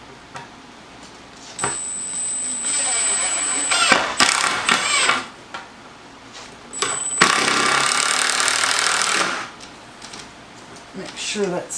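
A cordless drill gun whirs in several bursts while a mantle is mounted on a wall, close and loud, the longest run lasting about two seconds, with short clicks and talk between.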